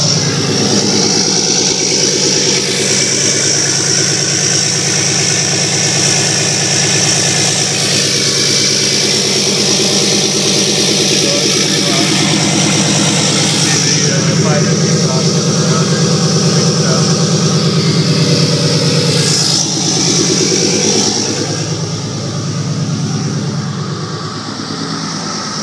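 A 2011 Cummins diesel truck fitted with an H&S Mini Maxx tune and a 5-inch turbo-back exhaust with an 8-inch tip idles near 1100 rpm, giving a steady, loud, close rumble with a constant hiss and no talk.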